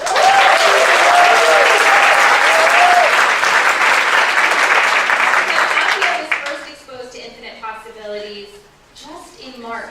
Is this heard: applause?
yes